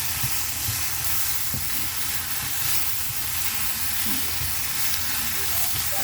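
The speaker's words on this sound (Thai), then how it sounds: "แล้วก็ค่อยๆผัดค่ะ แล้วทำให้พริกหอมด้วยนะคะ" Fresh chilies stir-frying in oil for a fermented fish chili paste, a dense, continuous sizzle and hiss with soft, slow stirring scrapes underneath, close by and steady throughout.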